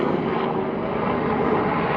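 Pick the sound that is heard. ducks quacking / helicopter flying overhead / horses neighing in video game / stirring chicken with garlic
helicopter flying overhead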